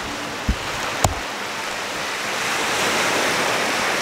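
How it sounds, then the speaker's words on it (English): Ocean waves wash onto a seashore beach at Indian Shores, a steady rushing surf that swells slightly louder over time, with two brief knocks near the start and no talking. "listening to the waves"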